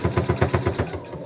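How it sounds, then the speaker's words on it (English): A domestic sewing machine stitches seams on a flamingo floaty plush, giving a fast, even run of about seven loud mechanical pulses close by that slow and fade as the stitching stops. "So I'll just sew until the foot hits my fingers."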